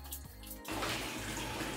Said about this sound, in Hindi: अभी पानी के जरिए यहाँ पे जो हमारा टैंक है इस कूलर का, उसको भी कर लेते हैं साफ